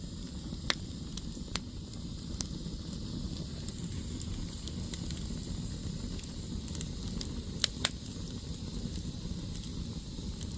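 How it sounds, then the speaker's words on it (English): A backyard campfire burning on a cool night: soft continuous hiss and low rumble with scattered sharp pops and crackles, steady and close. "I love a campfire, especially when it's cool out."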